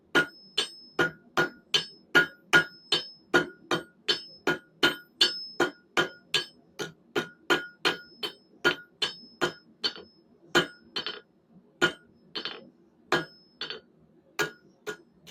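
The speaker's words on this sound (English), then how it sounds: "flat side of my hammer again, come to the edge of my anvil, strike in at 45 degrees" A steady run of about thirty ringing hammer blows lands on hot steel over an anvil while a fire poker taper is forged, the sharp metallic strikes coming at an even, quick pace with brief pauses near the end.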